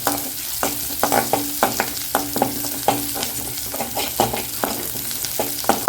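Small onions sautéing in a pan for a peanut chutney, with repeated stirring scrapes and knocks over a steady sizzle, close and fairly loud, no talk.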